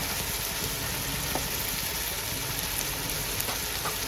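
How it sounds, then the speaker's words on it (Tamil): Small onions sizzling in hot oil for mutton biryani, a dense, steady crackling hiss with scattered pops, close and continuous throughout. "போடுங்க சின்ன வெங்காயத்தை. சும்மா அந்த செல்லன்னு சவுண்டு கேட்குது."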